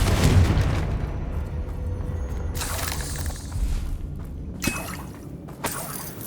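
Confringo fire blast spell in the video game Hogwarts Legacy, a deep booming explosion with a heavy low rumble at the start, followed by further crackling bursts and a sharp impact later on, with no talking.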